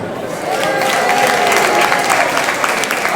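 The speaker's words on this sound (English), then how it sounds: "I want a round of applause for Aisha Karima." At an anniversary celebration at the Carnegie, a crowd delivers a round of applause for an absent honoree, sustained clapping that swells after a brief lull and holds steady, with scattered cheering and a voice partly audible underneath.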